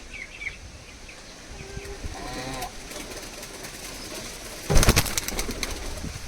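Pigeons coo softly at a pigeon seller's loft, faint low murmuring calls over a background hiss, followed by a louder burst of rustling or flapping near the end.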